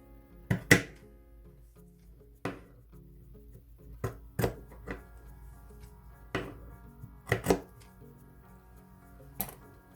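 Scissors snipping fabric strips for the loops of a homemade protective face mask, several sharp separate cuts spaced irregularly in a quiet room, with no talking.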